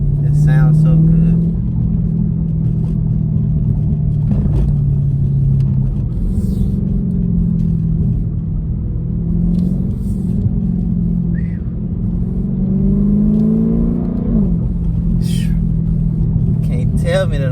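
Lamborghini Urus with a mid muffler delete and no tune, a deep rumbling exhaust that rises and falls as the engine revs, with brief crackles, loud and close while people talk.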